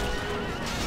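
A horse neighs in the Mount & Blade Warband role-playing game, a loud, shrill whinny over a dense, constant din of battle and hoofbeats, heard for about a second with no talk.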